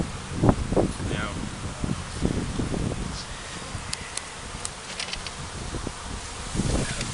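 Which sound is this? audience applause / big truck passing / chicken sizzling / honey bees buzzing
honey bees buzzing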